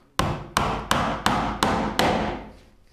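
A hammer drives a nail into wood while building a rolling cabinet base: six sharp, loud strikes land at a steady, slightly quickening pace, each ringing briefly before the next, with no talking.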